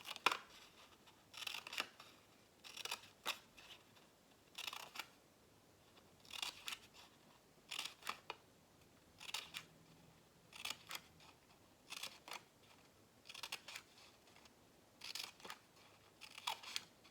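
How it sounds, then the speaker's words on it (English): Scissors snipping paper while cutting petals for a paper poppy craft for Memorial Day: short crisp snips in a steady, repeated rhythm, close and fairly quiet, with no talking. "you're going to cut from the edge up to the center circle"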